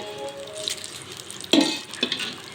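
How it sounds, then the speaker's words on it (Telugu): Hot oil tempering hits a peanut-coconut chutney with a sudden sizzling crackle, a sharp burst followed by softer sputtering and a second short flare. "ఇలా పోపు అయితే ఇందులో వేసుకున్నామంటే"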